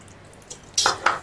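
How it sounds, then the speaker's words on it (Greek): A spoon stirs a sugar and liquid vanilla mixture for tsoureki dough, giving two quick, bright clinks against the bowl after a quiet stretch. "Ανακατεύουμε."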